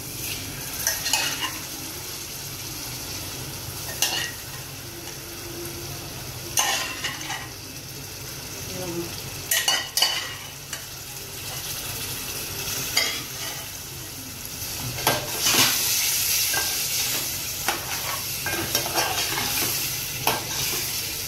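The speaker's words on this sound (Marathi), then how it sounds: "आता थोडासा मसाला शिजलेला आहे, आता टाकूया आपण हट्टी कलजी बघा।" Chicken liver frying and being stirred into a cooked Agri-style masala for a dry kaleji dish, with steady sizzling under repeated scraping and clanking of a spoon against the pan, close and moderately loud.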